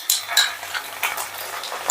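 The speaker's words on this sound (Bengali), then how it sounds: "পেঁয়াজটা একটু ভেজে নেবার পর যখন এই রকম নরম হয়ে যাবে তখন দিয়ে দেব আদা রসুন বাটা।" Sliced onion frying with ginger garlic paste in a pan for a fish curry, a close hiss punctuated by several quick spatula scrapes and clinks in an irregular rhythm.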